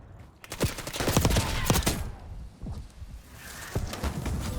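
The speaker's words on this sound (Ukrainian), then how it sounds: "Це термобарічна граната, походу" Explosive blasts and rapid gunfire in Black Ops 6, a loud burst of booms and crackling shots up front, a brief lull, then another sharp blast with lingering rumble; a thermobaric grenade detonation within a chaotic firefight.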